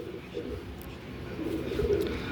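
Pigeons cooing in soft, low, rolling calls nearby, a steady murmur that swells slightly toward the end.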